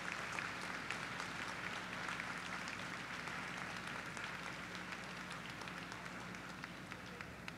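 Audience applause at a graduate commencement ceremony for a university, a steady sustained round of clapping from a large crowd filling the whole stretch without speech.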